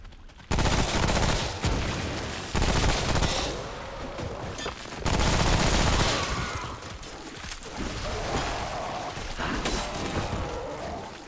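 An SMG fires in the video game Remnant: From the Ashes during a boss fight, loud sustained bursts of rapid gunfire with brief gaps between volleys, close and dense, mixed with game impact and crash sounds.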